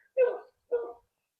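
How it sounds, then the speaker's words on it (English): Two short, sharp dog barks close by, about half a second apart, then quiet; sounds like more than one dog reacting to a neighbor's golf cart. "Sorry about the dogs."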